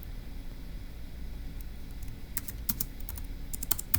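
Someone types on a computer keyboard while working through a logic puzzle, a faint, quiet stretch followed by short bursts of close, crisp key clicks with no talking.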